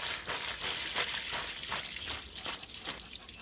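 Vegetables rinsed and washed by hand in water at home for a vegetable khichuri, a steady splashing, running-water wash with rhythmic sloshing bursts, close and continuous with no talk.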